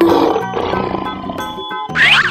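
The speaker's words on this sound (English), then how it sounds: "Lion." Lion roaring in a game-style animal sound sequence, a loud close growling roar with rough grunting pulses, followed by a higher squealing cry at the end.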